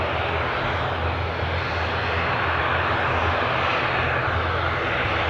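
Distant jet engine rumble from a KLM airliner lining up at Newcastle Airport, a steady broadband roar holding level throughout with no talk over it.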